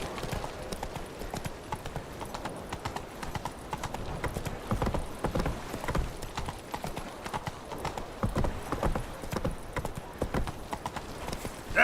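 Roach the horse gallops in The Witcher 3 video game, rapid rhythmic hoofbeats pounding close and steady throughout, with a brief snort and faint game ambience beneath.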